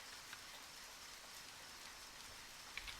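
Steady rain falls in the video game Deadly Premonition, an even, hissing wash of drops with a couple of faint splats, low in level and unbroken by speech.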